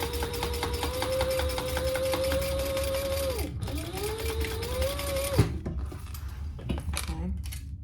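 A sewing machine runs steadily, top stitching fabric next to a pocket with the flap raised, a sustained whirring drone for about three seconds, a brief pause, then a second run, followed by scattered small clicks and handling noises.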